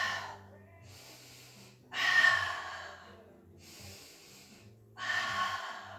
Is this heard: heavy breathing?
yes